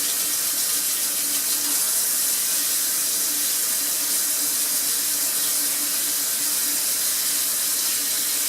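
Warm water runs steadily from a tap into a mixing container for setting compound, a continuous splashing rush with bright hiss that stays even throughout, no voices.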